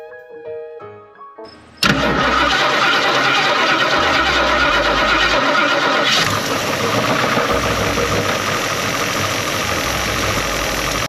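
A 1973 Ford Mustang with a freshly fitted spare coil cranks and roars to life, loud and close, after a brief moment of other noise, then runs at a steady rumbling idle.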